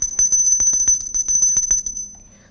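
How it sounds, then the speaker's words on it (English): A metal sample struck over and over gives a bright, bell-like ringing in a quick, even rhythm, loud and close, before the ringing fades out at the end. "Materials which produce a ringing sound are called sonorous materials."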